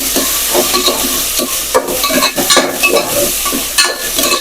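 Onion and potato sautéing in a hot pan, with a loud close sizzle broken by repeated scraping stirs of a spatula.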